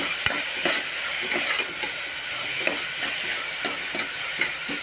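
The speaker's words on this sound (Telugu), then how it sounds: "ఆనియన్స్ అయితే యాడ్ చేసానండి బాగా ఫ్రై చేసుకోవాలి" Onions frying in hot oil in a pan for a goat head curry, a steady close sizzle with regular scraping stirs and light clicks of the spoon, no voices.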